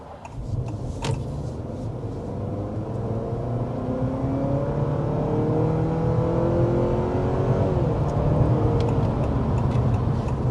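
Hybrid powertrain of a 2026 Honda Accord runs smoothly, a steady low engine hum and whir that slowly builds in level, with faint ticking on top and no talk.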